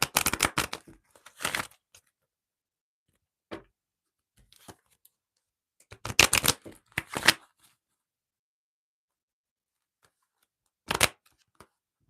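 Oracle cards being shuffled by hand, quick crisp riffling bursts in short clusters separated by long silent pauses, close and clear with no talking.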